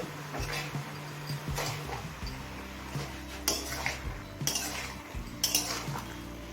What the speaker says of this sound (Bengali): এবার পালং শাকটা সবজির সাথে মিশিয়ে নেব